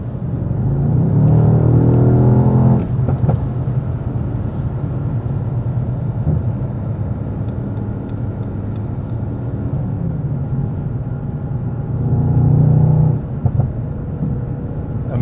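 A 2019 Mercedes-AMG S63 Coupe 4Matic+ drives in Sport Plus mode, its engine giving a deep, steady droning rumble from inside the cabin, with two louder revving swells.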